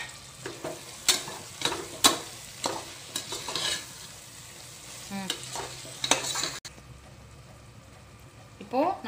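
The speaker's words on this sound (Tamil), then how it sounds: "இந்த டைமில் வந்து நான் எடுத்து வச்சுருக்க புதினா கொத்தமல்லி போட்டுடுறேங்க. மிக்ஸ் பண்ணி விட்டுக்கோங்க." Mint and coriander are stirred into prawn biryani masala in a pressure cooker, giving a run of close, scraping spoon strokes over a soft sizzle, with quieter pauses between bursts and a final clank.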